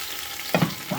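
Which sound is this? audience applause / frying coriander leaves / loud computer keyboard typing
frying coriander leaves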